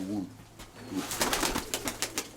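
Soft pigeon cooing blends with a voice at the start, followed by a series of quick flapping or rustling bursts close by.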